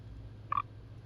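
A single short frog croak sounds from thick grass, close and clear, standing out once against a faint outdoor background hum.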